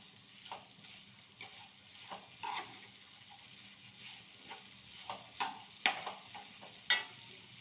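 Sliced onions are stirred in a pan with fresh green turmeric. The frying is quiet and soft, broken by scattered scrapes and light clinks of a spoon on metal that come at an uneven, unhurried pace, with no voices.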